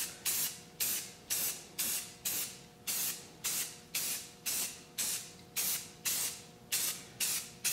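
An aerosol can sprays primer onto a motorcycle triple tree in light coats, heard as about fourteen short, evenly spaced hissing bursts in a steady rhythm, close and moderately loud with no talking.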